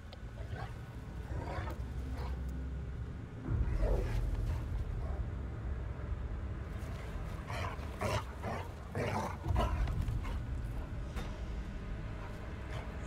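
Dog barking and whimpering in the video game The Casting of Frank Stone, several loud growly barks and whines in bursts over a rumbling ambient background.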